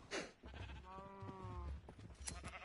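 Minecraft sheep bleats in a single wavering, nasal cry with clear harmonic tones over a steady background hum, with no talking.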